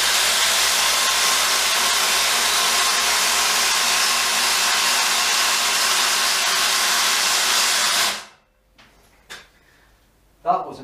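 A Milwaukee M18 FID2 Gen 3 Fuel impact driver spins freely in a speed test, giving a loud, even, high whir for about eight seconds before cutting off, followed by a few faint knocks.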